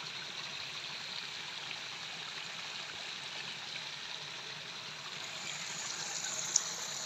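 Water flows steadily in an irrigation canal beside paddy fields, a continuous soft rushing with no talk, even and moderately distant throughout.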